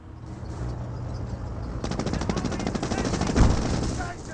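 Gunfire in the World War II strategy game Company of Heroes: a rapid machine-gun burst rattles over a constant background battle rumble, then a louder thump hits near the end, with no talk.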